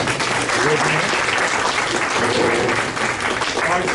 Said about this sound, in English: Please give a round of applause to Mrs. Ruffin.